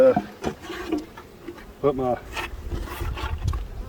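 Honeybees buzzing around a nuc colony as it is moved, a close insect drone under a man's speech, with bumps and handling noises.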